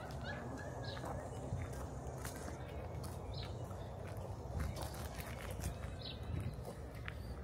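Birds and fowl call intermittently near people outdoors, with short bright chirps and clucks over a steady wash of ambient noise and faint footsteps.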